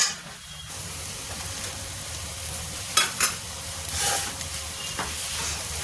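Aloo baingan chokha, a mash of potato and eggplant with ginger, is pressed and stirred in a pan, giving soft squishing and scraping sounds over a faint hiss, with a few sharper knocks partway through.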